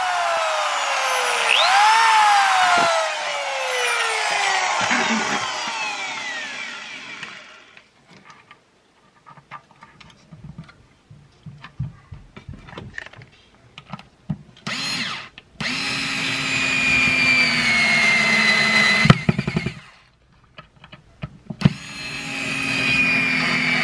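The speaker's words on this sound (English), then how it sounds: "so I'm going to drill a few pilot holes." A power drill whines at high speed boring pilot holes in oak plywood, then stops; after quiet shuffling it runs again in bursts, loud and close, with pitch sweeping as it works.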